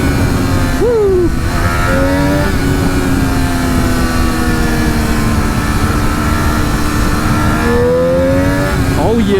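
A Triumph Daytona 765 Moto2 race bike revs loudly and continuously while riding, its engine pitch rising and dropping through several swells across the whole stretch, with no talk over it.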